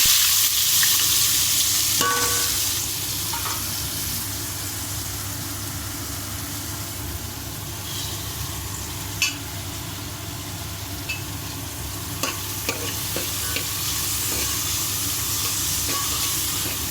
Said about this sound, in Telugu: ఇప్పుడు ఆయిల్ వేడైన కదా పచ్చిమిర్చి, ఆనియన్స్ వేసేసుకున్నాము